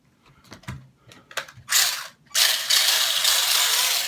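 A GP Toys S606 1/24 scale RC desert buggy is switched on, with a few small clicks and mechanical ratcheting followed by a loud, close burst of whirring, rasping motor and gear noise.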